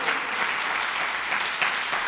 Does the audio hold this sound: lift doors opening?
no